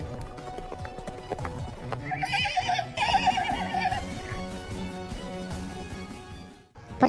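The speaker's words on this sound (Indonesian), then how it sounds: "tiba-tiba datang Tang dan memakai sebuah kuda putih" A white horse neighs in a loud, wavering whinny amid rhythmic clip-clopping hooves, with music and other sounds layered underneath.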